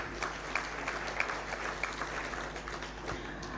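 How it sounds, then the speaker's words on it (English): A modest audience at a talk show on ending child labour claps in welcome, a fairly faint, scattered patter of hands with a few sharper claps standing out over a low hum. "we just welcome them with a hand clap"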